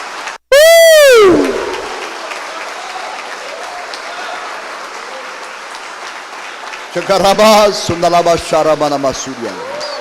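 A church congregation breaks into sustained applause, preceded by a sharp whistle-like sweep; the clapping holds steady and loud before voices and tonal sounds rise over it toward the end.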